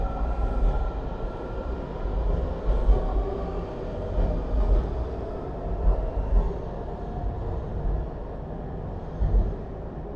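Washington DC Metro subway train rumbles and rolls steadily with a loud, continuous low roar and some rattling, heard close up with no talk.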